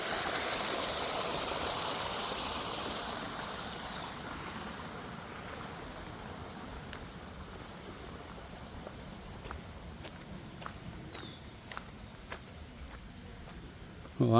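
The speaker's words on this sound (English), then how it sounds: "a roaring brook, right?" Brook water flows in Elizabeth Park, West Hartford, as a steady broadband rush that eases slightly over time, with a few soft clicks and knocks near the end.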